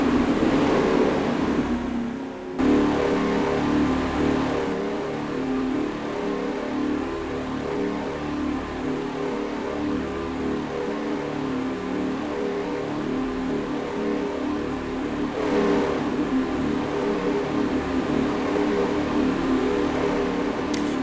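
Race cars at Daytona in a Roblox racing game take the green flag off turn 4, a steady droning engine pack that holds at a constant level throughout, with a brief drop near the start.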